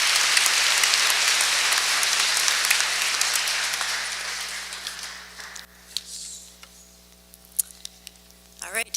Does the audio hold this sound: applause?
yes